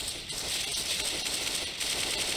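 Continuous automatic gunfire spray in CS:GO, a dense rapid rattle of shots running steadily through the clip with only brief dips, fairly loud and alone without talk.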